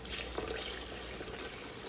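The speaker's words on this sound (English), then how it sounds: "I want to make sure we have enough gravy in this pan, so I'm going to add just a little bit more water" Water pours into a pan of curry chicken made with chicken thighs, a soft continuous trickle and splash lasting under two seconds, faint and close with no talking.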